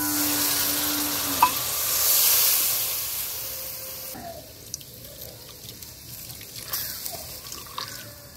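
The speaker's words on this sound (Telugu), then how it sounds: "వినా నీళ్ళు వేస్తున్నాను చూడు" Water is poured into a cooking pan while egg keema is being made, giving a hissing, sizzling splash that swells, then fades into softer drips and stirring sounds. No voices.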